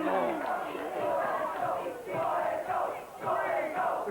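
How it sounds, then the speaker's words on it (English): Wrestling crowd chanting in unison at a Frontier Wrestling show, a loud rhythmic two-beat chant repeated several times, voices massed and roomy. "The crowd breaking into a chant of solid gold, solid gold."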